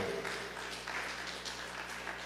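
A church congregation claps steadily and continuously, a dense wash of applause at moderate volume with no voices over it.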